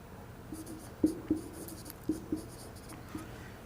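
A teacher writing words on a board: a series of soft, scattered taps and scratches, about six distinct strokes in a quiet room with no talk.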